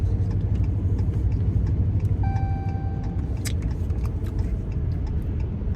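Inside a moving car, a steady low engine and road rumble runs throughout, with a faint ticking layered on top.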